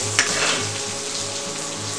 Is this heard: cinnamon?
yes